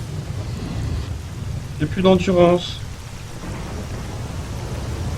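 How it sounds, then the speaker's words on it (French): Thunderstorm ambience in the video game S.T.A.L.K.E.R., a steady wash of rain and low rumbling thunder running throughout, with a voice speaking briefly over it midway. "Les orages, ça me fait laguer."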